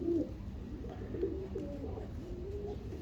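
A pigeon coos softly at close range with several low, throaty calls spaced across a quiet background.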